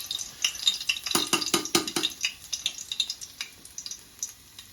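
Garlic goes into a hot pan, and a sizzle sounds close under a rapid run of scraping, clinking stirs with a utensil against metal, which thin out into a softer frying hiss.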